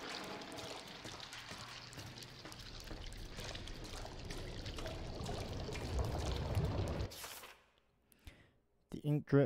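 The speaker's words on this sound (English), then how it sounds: "ink drips" Ink drips and trickles through a shadowy studio in Bendy and the Dark Revival, a pouring, watery stream over a low rumble that cuts off into near silence before a few sharp sounds.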